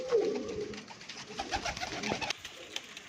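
Several pigeons from a flock kept for a pigeon-flying game coo in short soft bursts, fairly close and quiet, with faint scuffling around them and no talk.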